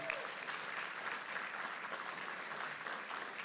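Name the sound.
church congregation applause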